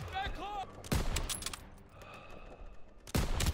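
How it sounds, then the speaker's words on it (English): In the World War II shooter Call of Duty WW2, sharp bursts of rapid gunfire crack out in two loud volleys separated by a quieter stretch, with faint voices underneath. "Where are the shots coming from?"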